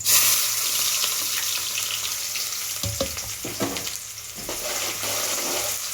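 Chopped onion frying in hot oil with browned garlic for a dal and drumstick tempering, a steady close sizzle throughout with a few stirring scrapes in the middle, no talking.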